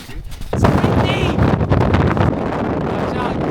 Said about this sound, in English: It's definitely got windier after we pass a certain point.